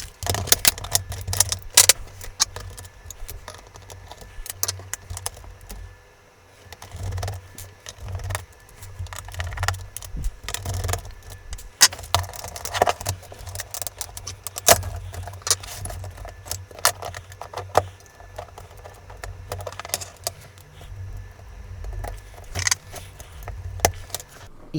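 An Amstrad NC100 laptop being taken apart to fix its keyboard gives irregular plastic clicks, taps and rattles, near and intermittent, with quiet pauses between bursts of handling.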